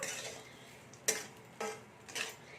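A spoon stirs rice with nuts and a fried egg in a pan over high heat, giving a few sharp, close scrapes and clinks spaced through a quiet background.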